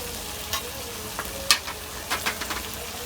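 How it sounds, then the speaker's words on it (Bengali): Ground coriander, turmeric and chili spices sauté in a pan for a red chicken curry, a soft steady sizzle under a few sharp stirring scrapes and clicks, close by and without talk. "এখন মশলাটা ভালো করে কষায় নিলাম।"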